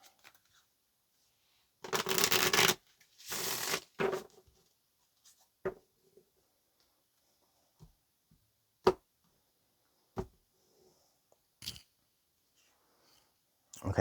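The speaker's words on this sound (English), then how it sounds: "let's get one more shuffle for Cancer." Two bursts of tarot card shuffling, each a dense riffling rush lasting under a second, followed by a few soft, sparse taps and slaps as cards are laid down.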